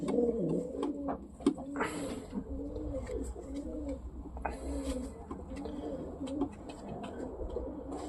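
Racing pigeons coo steadily in a loft, with overlapping low rolling calls repeating throughout, moderately close against faint background noise and a few soft knocks.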